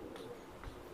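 A single soft, low pigeon coo, faint against quiet background noise.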